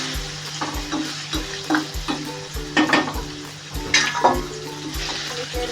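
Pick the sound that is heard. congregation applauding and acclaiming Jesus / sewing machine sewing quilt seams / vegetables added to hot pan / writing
vegetables added to hot pan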